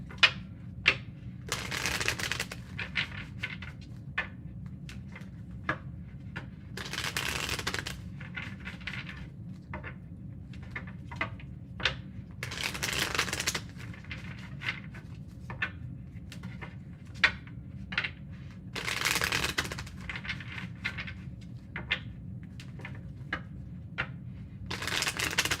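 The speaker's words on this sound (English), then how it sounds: "Two more shuffles for Sag and their person." Tarot cards being shuffled in repeated bursts, crisp riffling flutters separated by short pauses and soft taps, close and fairly quiet.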